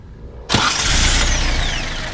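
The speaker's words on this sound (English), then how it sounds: "So we'll go ahead and start it up here for you." An old pickup engine cranks and catches abruptly, then settles into a loud, steady, rattling idle close by.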